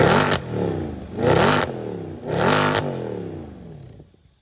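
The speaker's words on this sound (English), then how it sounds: "a modified exhaust that sounds really good at startup." A Mercedes E63 with a modified exhaust revs at startup: three loud, close throttle blips rise and fall in quick succession, each a raspy roar, before the engine settles toward a quieter idle, with no talk.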